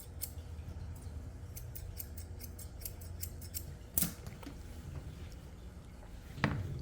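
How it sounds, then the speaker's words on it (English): Grooming scissors trim a Yorkie's coat: a quick run of crisp, close snips, then a pause and two louder isolated cuts, with no voices. "I'm going to take my rounder scissors here."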